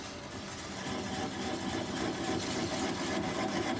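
Wood lathe turning a large, heavy piece of driftwood at a slowed speed of about 200 RPM, giving a steady, continuous motor hum and rumble that holds even and fairly loud throughout.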